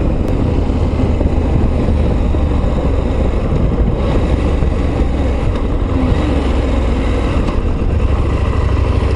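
A KTM 890 Adventure motorcycle engine pulls hard under acceleration, a loud continuous roar mixed with heavy wind rush, sustained with no pauses.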